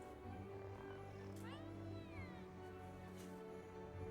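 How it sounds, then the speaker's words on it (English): A cat meows in a Legends of Runeterra game board interaction, a clear drawn-out meow with a second fainter one, layered over steady game music. "So we can click on the little kitty here."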